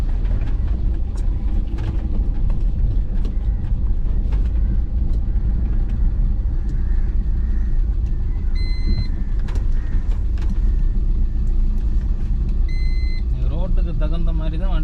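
A car drives slowly in low gear along a village road, its engine a steady close rumble with road noise and a few short beeps, while someone talks throughout.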